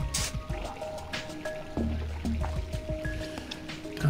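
Watery drips and squishy liquid sounds from water being collected in a puzzle video game, a few short splashy pops and trickles against a faint tonal background, with no voices.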